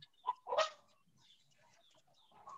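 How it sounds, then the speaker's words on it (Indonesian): A chicken gives a couple of short clucks in the distance, faint and brief, followed by quiet background noise. "Suara ayam dari mana itu ya?"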